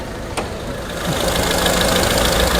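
A 2001 Mitsubishi Lancer SLXi's 1.5 litre petrol engine idles close by with a steady, even rumble and a faint knocking texture, running alone.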